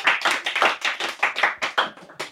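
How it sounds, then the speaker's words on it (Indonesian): A studio audience claps hands in a rhythmic burst of about a dozen sharp, crisp claps, close and fairly loud, heard alone without talking. "Ya boleh tepuk tangan."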